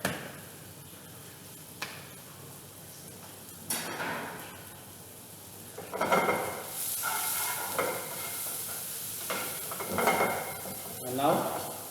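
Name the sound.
onions cooking in a pan with salt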